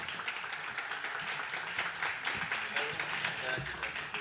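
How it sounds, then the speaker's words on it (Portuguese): An audience claps for a speaker being welcomed on stage at the WindsForFuture 2022 festival: fairly quiet, steady applause lasting several seconds, with a voice speaking over it. "Salva de palmas."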